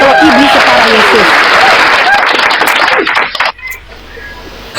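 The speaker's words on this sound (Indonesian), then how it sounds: "Tepuk tangan host, luar biasa." An audience at a public religious debate applauds the host, loud and dense clapping with people talking and calling out over it, then it cuts off abruptly near the end.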